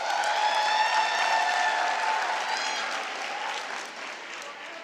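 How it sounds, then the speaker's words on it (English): An audience at a university autumn graduation ceremony claps for the CPUT choir, a dense burst of applause that swells briefly and then gradually thins and fades over several seconds, heard from a moderate distance. "Let's give them a round of applause"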